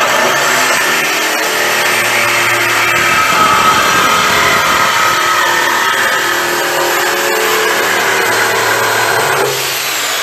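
A power saw with a new blade cuts through an exhaust pipe, a loud, continuous grinding whine with a rough, harsh edge that holds steady for about ten seconds close by.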